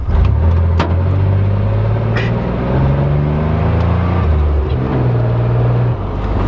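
A car drifting in snow accelerates hard, its engine note climbing and shifting in loud, steady pitch steps that hold throughout with no pause.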